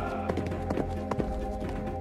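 A galloping horse's hooves strike in a steady, evenly spaced rhythm, three or four firm beats over a sustained musical backdrop, fairly close and moderately loud.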